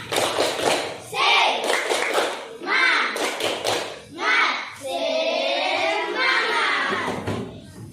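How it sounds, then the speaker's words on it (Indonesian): Children in a classroom perform a rhythmic 'tepuk semangat' clapping chant, groups of sharp hand claps and taps alternating with loud sung and chanted children's voices in short patterned bursts. "kita kasihlah tepuk semangat dulu. Tepuk semangat."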